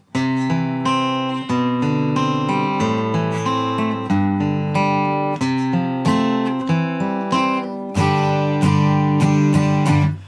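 An acoustic guitar strums a series of chords, each ringing out and decaying before the next, in a steady repeating rhythm.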